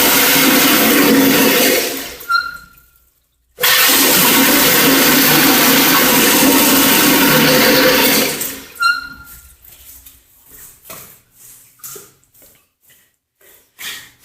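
An Acorn Engineering stainless steel toilet in a beach bathroom flushes in two loud, forceful bursts of rushing water, each cut off abruptly. Quieter knocks and drips follow at the end.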